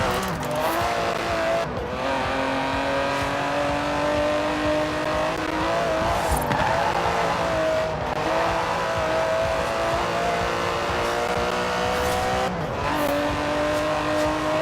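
A twin-turbo 5.2-litre V12 Aston Martin DB11 in Forza Horizon 4 drives hard, its engine droning loudly and steadily with repeated rises and falls as it revs through gear changes, with brief tire squeal, close and alone.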